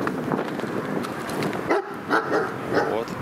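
A shepherd dog barks several times in sharp, close bursts while a person talks over it.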